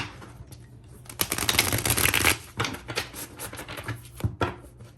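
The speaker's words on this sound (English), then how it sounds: "I feel like I got to get a really good shuffle in with these guys." Tarot cards being shuffled up close, a dense flurry of quick riffling and flicking that rises and then continues in shorter bursts.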